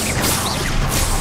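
Spell-casting effects in Hogwarts Legacy, a dense whooshing, crackling burst of magical sound filling the short moment loudly, with bright swishes sweeping through.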